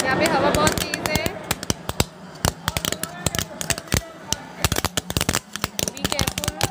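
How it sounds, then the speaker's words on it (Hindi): Strings of small firecrackers attached to a burning Ravana effigy crackle in rapid irregular bursts of sharp pops, loud and close, with some wind noise and faint voices early on. "हमने इसमें छोटे छोटे से पटाखे लगाए हैं"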